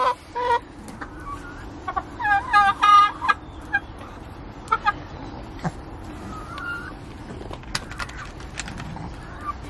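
Backyard hens peck at sweet corn, clucking and giving short squawky calls that are loudest early on. After that, scattered pecking taps and occasional clucks carry over a steady outdoor background.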